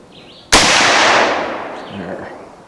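A single sharp, loud shot from a Marlin Guide 45/70 rifle at an outdoor range, cracking suddenly and then rolling off in a long fading echo.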